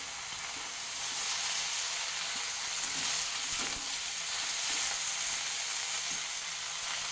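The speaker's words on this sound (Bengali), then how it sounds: "এখন আমি কেটে রাখা ধুয়ে রাখা লাউ শাকটাকে এর মধ্যে দিয়ে দিলাম। এবার এটাকে একটু ভালো করে নেড়ে চেড়ে দিচ্ছি।" Chopped bottle gourd greens frying in a pan, a dense continuous sizzle heard up close while occasional soft knocks and scrapes of stirring break through, with no talking.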